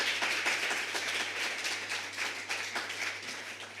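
Audience clapping at the close of a live-streamed event, a sustained patter of many hands with distinct rhythmic bursts, moderately distant and even over a steady low hum, with no voices.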